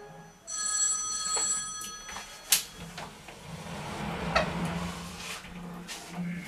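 A telephone rings with a bright electronic trill for about two seconds, followed by clunks and rustling of handling nearby.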